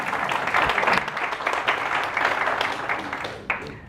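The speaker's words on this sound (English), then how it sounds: "let's give a good round of applause to Zaid" An audience claps for a volunteer named Zaid at a religious talk, a dense steady patter of many hands holding at moderate loudness for several seconds before thinning near the end.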